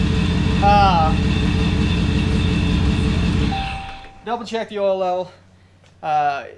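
A turbocharged, supercharged car engine runs steadily at idle with a loud, even rumble, then shuts off, after which someone speaks close by.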